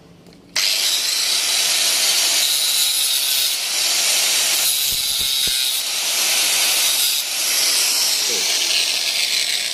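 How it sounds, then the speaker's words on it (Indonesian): Cut-off angle grinder knocking slag off a vertical-up 3G weld on a small workpiece: a loud, steady high-pitched whine starts abruptly and runs throughout, with a few brief touches and shifts in pitch as the disc contacts the metal. "kita cukup menggunakan gerinda potong ini. Nah, kita sentuhkan ke samping kanan, kemudian ke samping kiri."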